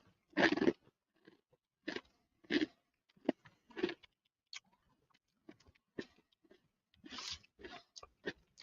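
Loud, close crunching bites and chewing of Dunkin cheese bagel chips from South Korea, a few sharp crunch bursts followed by quieter irregular chewing crackles, with no talking.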